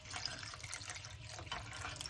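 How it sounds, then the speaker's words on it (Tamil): Water poured into a simmering yellow pumpkin tamarind curry (puli kulambu) in a pot, a short, steady, moderately soft liquid splash and trickle ending in a slight louder slosh. "இதில் கொஞ்சம் தண்ணி கூட சேர்த்துக்கலாம்."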